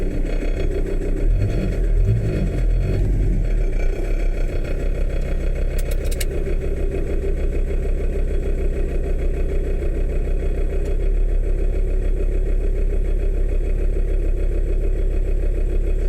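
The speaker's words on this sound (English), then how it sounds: "This van is rough, it sounds rough, and everybody knows it's rough" A Renault Trafic camper van engine idles roughly at close range, a steady low rumble that stays loud and unbroken throughout, with a few brief knocks early on and no talking.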